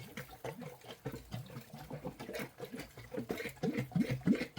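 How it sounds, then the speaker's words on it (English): A lidded spray bottle of filtered, room-temperature water being shaken hard up close, giving rapid, rhythmic sloshing bursts that grow stronger toward the end, with no talking. "Put the lid on, give it a good shake."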